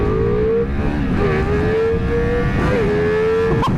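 A Ducati Multistrada RS motorcycle engine revs hard in race mode, a loud continuous whine climbing in pitch with short dips at gear changes, close and steady throughout.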